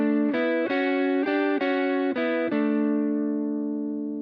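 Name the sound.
guitar riff harmonized in fourths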